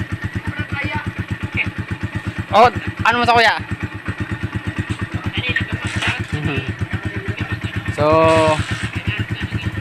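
Motorcycle engine idling steadily after starting, a continuous low pulsing throb close by, with short louder bursts; people speak briefly over it.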